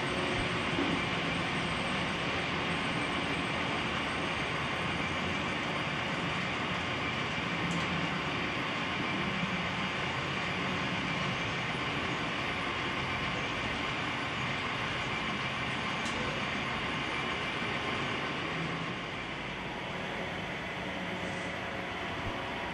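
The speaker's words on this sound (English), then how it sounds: "I increase the speed of the model train and slow down again." A model railway train runs continuously at close range, its rolling rumble and hiss holding steady for most of the stretch and easing slightly near the end, with no voices.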